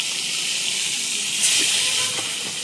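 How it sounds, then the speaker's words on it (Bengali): Eggplant slices frying in hot oil give a steady, close sizzling hiss throughout the short stretch, with a brief louder spatter midway. "এদিকে তেলটাও গরম হয়ে গেছে, ভালো করে বেগুনগুলো ছেড়ে দেবো একটা একটা করে।"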